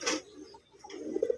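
A pigeon from a pair of Rajgolla pigeons gives a few soft, low coos close by, with a quiet pause between the calls.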